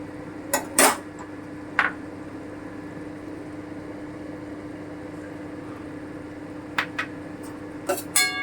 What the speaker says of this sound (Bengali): আমি একটু নেড়ে নেব